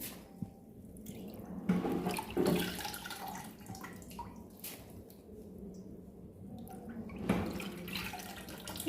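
Water trickles and drips from freshly washed wheat held in a bag, a soft irregular draining sound with a few louder splashy bursts, fairly close and without talk.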